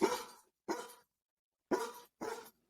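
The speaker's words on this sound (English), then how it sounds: "Well, don't give him a treat for barking. You just gave him a treat for barking." A pet dog barks four times in sharp, close bursts with short pauses between them, loud against an otherwise quiet indoor room.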